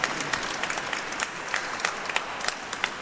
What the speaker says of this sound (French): Ah ouais, là, ouais, on peut applaudir l'Eucharistie.